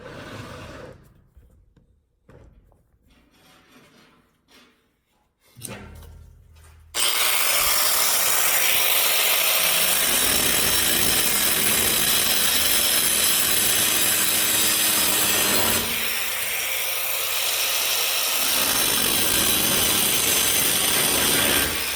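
A piece of a tool hanger jig is cut off: a few seconds of quiet handling and scraping, then a power tool roars in at about seven seconds and runs loud and continuous, with a slight change in pitch partway through.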